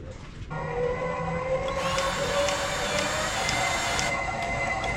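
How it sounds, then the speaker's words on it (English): A truck-mounted salt spreader auger runs while being greased, a steady mechanical whine and hum that starts after a brief pause and then holds loud and continuous, with a slight shift in pitch partway through and no voices. "go turn that auger on so this grease will get in there"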